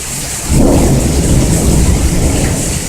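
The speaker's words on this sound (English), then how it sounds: "There'll be another thunder." A deep roll of thunder breaks in after a brief moment and rumbles on loudly over steady heavy rain during a thunderstorm in Roxboro, North Carolina.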